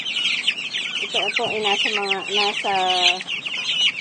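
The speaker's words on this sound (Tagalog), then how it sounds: "ito po ang aking mga manok na 45 days cubs" Young chickens around 45 days old cluck and chirp in a busy, overlapping chorus close by, with harmonic calls repeating through the middle stretch over a steady flock background, while someone speaks briefly.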